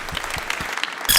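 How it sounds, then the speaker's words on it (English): Audience clapping for a speaker named Jeffrey at a crypto talk, a short burst of applause that swells louder at the end. "Round of applause for Jeffrey, please."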